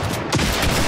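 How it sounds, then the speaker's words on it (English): A quick burst of loud, close gunshots in Hunt: Showdown, packed into under a second of dense, echoing fire. "that's three fucking shots!"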